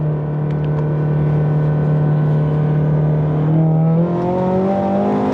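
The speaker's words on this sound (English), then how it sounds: "I'll put sports mode, traction control off" A sports-mode car with traction control off accelerates hard in second gear, its loud, close engine drone rising steadily in pitch as it pulls, with no talking.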